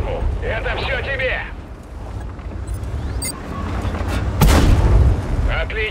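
In the World of Tanks Waffenträger: Legacy game mode, a tank cannon fires a single heavy, booming shot midway through, set against rumbling battle ambience, with a voice in the game speaking.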